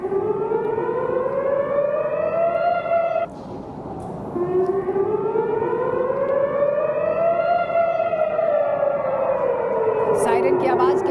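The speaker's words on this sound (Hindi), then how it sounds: "सायरन की आवाज के बीच ये" A civil defense air raid siren wails during rocket fire from Lebanon on Israel, loud and sustained with a rising and falling pitch that dips briefly before climbing again, heard alone without talk.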